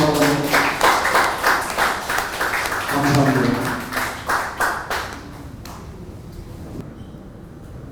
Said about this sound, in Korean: 여러분 경례 박수 한번 보내주시기